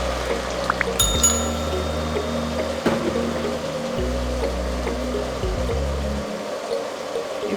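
Hot water poured into a cooking pan to start a peanut butter soup, a steady splashing stream running for several seconds with faint clanks of the pan, close by and without talk.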